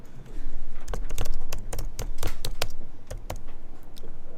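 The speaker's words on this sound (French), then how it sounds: "je tape en anglais" Rapid, irregular clicks of a computer keyboard being typed on, close and fairly loud, with bursts of keystrokes across the whole stretch and no voices.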